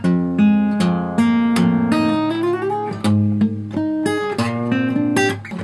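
Plucked acoustic guitar notes ring out one after another, with a few notes sliding smoothly upward in pitch, played alone and close.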